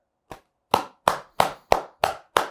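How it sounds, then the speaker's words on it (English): Hand claps from a clapping exercise for health, seven single sharp claps ringing out alone at a steady pace, the first softer and the rest loud and close, each with a short room echo. "Okay, so you're going to clap here. Then you're going to clap here."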